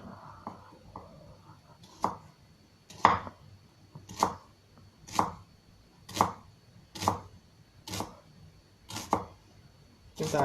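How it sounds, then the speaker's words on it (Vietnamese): A knife chops through an onion on a cutting board in a slow, steady rhythm of about ten crisp, close strikes, roughly one per second. "Chúng ta thái hành như bình thường ha."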